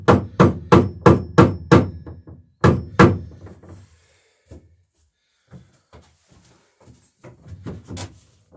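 A hammer knocks a wooden seat riser into place on a Chamberlain dory, with a quick run of sharp, resonant taps, a pause, two more firm blows, then scattered lighter knocks and handling sounds.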